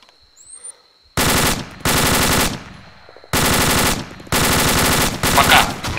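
Loud bursts of automatic gunfire in ArmA 2 ACE, the game's combat sound: four long sustained volleys with brief quiet gaps between them, close and dominant, with no talk over them.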